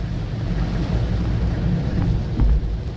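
Dense, roaring heavy rain with a deep rumbling undertone, a constant wash of noise close by, with no voices.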